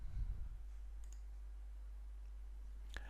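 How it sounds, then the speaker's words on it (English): A single soft computer mouse click on an upload button during a website hosting tutorial, faint and brief against a low steady hum, with another small click near the end. "Click the Upload button."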